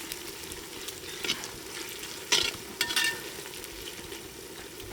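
Onions and spices fry for a spicy Indian-style lamb potjiekos, a constant close sizzle with a few sharper crackles and stirring scrapes in the middle.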